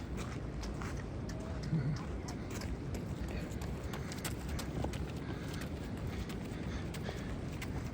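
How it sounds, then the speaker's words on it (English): Footsteps pass behind a person outdoors, a steady shuffling patter close by over a continuous low rumble of ambient noise, with no clear talk over it. "I heard some footsteps behind me"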